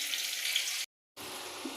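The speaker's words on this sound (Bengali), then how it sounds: "এখানে চলছে আলু ভাজা।" Potato pieces frying in a pan with salt and turmeric give a steady bright hiss and sizzle, with a brief silent cut in the middle before the sizzling resumes at the same level.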